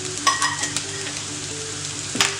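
Grated coconut fries in a little coconut oil for a spicy potato curry, a close, steady sizzle with scattered crackles and stirring scrapes, loudest in short bursts, with no talking.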